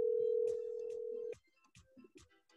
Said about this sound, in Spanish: estamos llamando, vamos a ver que lo coja.